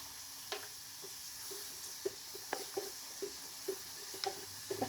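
Onions and curry leaves sizzle as they fry in a pan for a gutti vankaya curry, a steady soft hiss punctuated by light scraping taps of stirring at irregular intervals.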